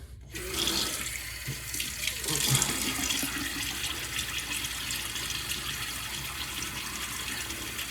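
Tap water runs steadily into a sink while a face is wetted before a shave, a continuous close splashing stream that holds for the whole stretch with no voices.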